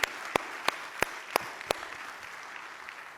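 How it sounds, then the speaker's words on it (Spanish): A church congregation claps in unison, six sharp, evenly spaced claps over a hushed room before the rhythm fades away. "Dale un fuerte aplauso al Señor."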